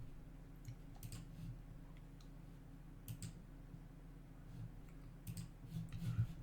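Faint, quiet clicking of computer keyboard keys pressed in short irregular bursts over a steady low hum, with no voices.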